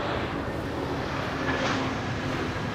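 A passenger airplane taxiing toward runway 24 at Amsterdam Schiphol Airport, a steady low jet rumble heard from a distance with wind noise and a faint rising whine midway, no talk.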